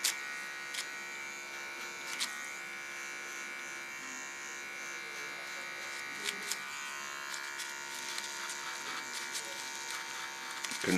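Electric hair clippers buzz steadily while trimming neck hairs along a woman's neckline, a close, continuous whine with occasional brief clicks and shifts in pitch as the blades move through the hair.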